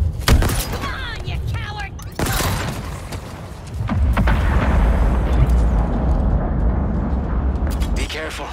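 Grenade explosions in the video game Halo Infinite, a couple of sharp blasts early on followed by a long rumbling roar of combat noise, with a person talking over the action.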